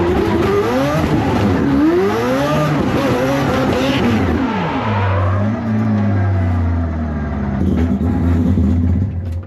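A 4-rotor Toyota Supra fitted with nitrous, running rich and prone to stalling, revs hard through rising and falling sweeps, then drops to a lower, rumbling drone near the end. The engine is loud and close throughout.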